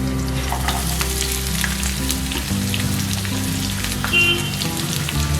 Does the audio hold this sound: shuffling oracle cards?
no